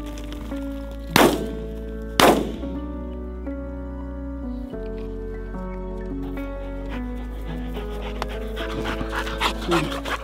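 A pointing dog pants steadily and close during a scaled quail hunt in New Mexico, with two sharp thumps early on and a steady low hum underneath.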